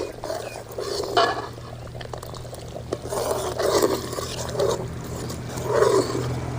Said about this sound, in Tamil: நல்லா கொதித்து வேகுது.